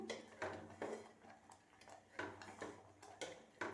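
Rice and jaggery being stirred in a cooking pot for sweet pongal, giving repeated scraping, clinking strokes of a spoon against metal at an uneven rhythm, close and moderately loud with no talking.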